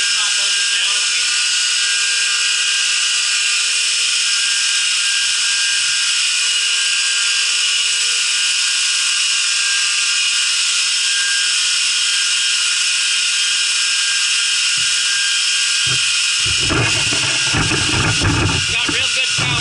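An aluminum-frame 2x72 knife belt grinder fitted with a drive wheel runs at 3600 RPM, giving a steady high-pitched whine and hum for most of the stretch, with clunks and a rougher burst near the end.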